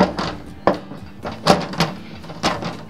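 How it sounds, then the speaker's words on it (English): Door being fitted back onto a Fistreem 3 water distillation unit, a series of sharp plastic clicks and thunks in irregular rhythm, close and fairly loud. "put your door back on, because you always want to run the unit with the door on."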